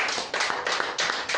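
A church congregation applauds in a short, steady burst of clapping with rhythmic surges, fairly loud and with no voices over it.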